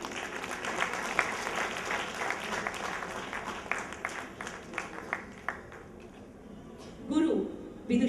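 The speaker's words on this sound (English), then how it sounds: "So great round of applause for receiving the chief guest." Audience applauding to welcome the chief guest at a classical dance event, a steady spread of clapping that fades toward the end, with a voice speaking briefly over it.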